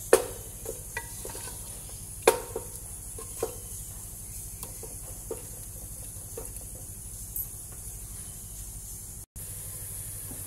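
Mutton with bottle gourd being stir-fried dry in a pan over a medium flame: a soft steady sizzle with occasional spoon scrapes and taps, close and quiet, with no voices.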